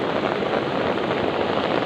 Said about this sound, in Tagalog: Kadili ra kayong ulan.